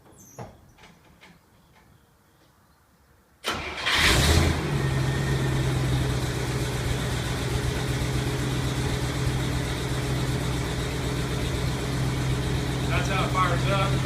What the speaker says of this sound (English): That's how it fires up.